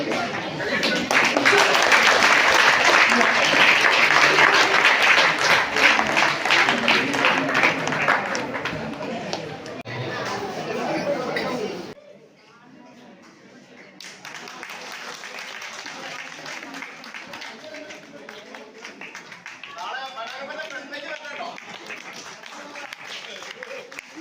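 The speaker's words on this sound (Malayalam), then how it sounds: "ഈ ക്ലാപ്പ് അവർക്ക് വേണ്ടിയിട്ടുള്ളതാണ്" An audience at a school alumni batch event applauds for a pilot's mother, loud sustained clapping for about ten seconds, then cut to quieter crowd murmur and voices.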